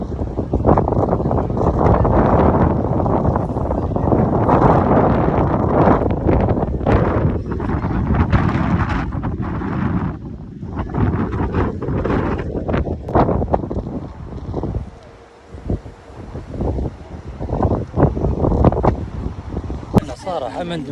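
Wind gusts blow across the microphone at a foggy seaside viewpoint in Tangier, a steady loud rumble that runs throughout and eases briefly near the end, with people talking under it.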